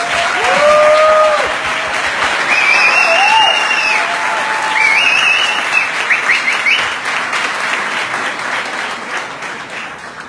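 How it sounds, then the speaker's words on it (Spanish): Strong audience applause welcoming a speaker at a business presentation in Buenos Aires, with whoops and whistles over the clapping, gradually thinning out. "recibamos con un muy fuerte aplauso a Nathan."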